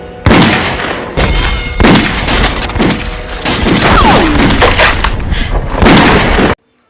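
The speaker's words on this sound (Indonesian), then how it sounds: "Akhirnya, aksi tembak-tembakan pun terjadi." Loud gunfire erupts in a Chinese cowboy-style shootout, a rapid sequence of heavy booming shots with echoing tails, several bursts packed close together before cutting off abruptly.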